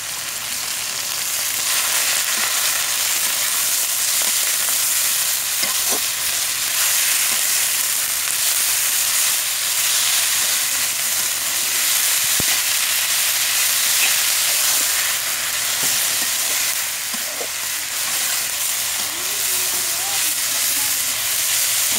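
Leafy greens sizzle steadily in a pan with browned onion, garlic and green chili, a continuous hiss with occasional faint stirring clicks.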